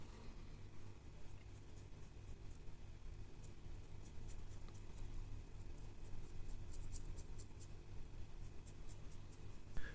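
A small brush paints Citadel Retributor Armour gold onto the chain of a 3D printed Bebop figure. It gives faint, soft scratchy strokes in short bursts over a low background hum.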